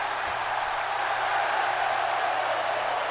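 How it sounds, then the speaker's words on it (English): A large wrestling arena crowd in WWE 2K17 roars steadily throughout, a dense, continuous wash of cheering and noise with no pauses. "Listen to this crowd."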